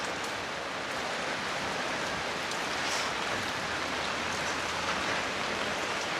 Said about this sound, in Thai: ฝนตกหลายก่อน